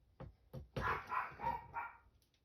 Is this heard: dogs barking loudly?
yes